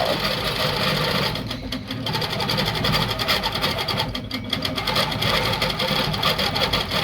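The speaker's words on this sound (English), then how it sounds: "So I'm going to turn my stitching on my handlebars here, hit my green check mark, and off we go." A longarm quilting machine stitching a nested layout, giving a loud, continuous, fast mechanical whir with a rapid needle rhythm and slight rises and dips in speed.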